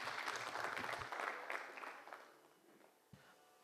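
Applause after a sitar concert: a room of listeners claps warmly, then the clapping thins and fades to near silence, with one faint thump near the end.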